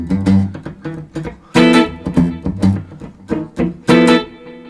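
An electric guitar played through two tube amps at once with a delay effect, with loud, close picked notes and chords that ring with faint echoing repeats.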